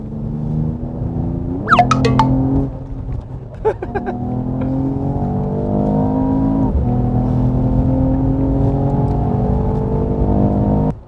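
A Mercedes-AMG CLS 53 in sport driving mode gives a loud, close engine drone that climbs steadily in pitch, with two sharp throttle blips early on before the revs build and hold.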